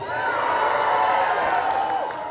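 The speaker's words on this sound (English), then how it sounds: "are you ready to cheer for our cosplayers?" Crowd cheering and whooping at MCM Birmingham Comic Con for cosplayers, a loud, sustained roar of many voices with some music or tonal sound running through it.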